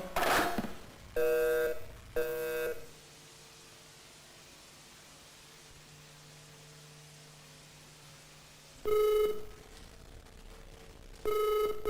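A telephone rings in two double bursts, one at the start and another near the end, each a pair of buzzy electronic trills separated by a quiet hiss.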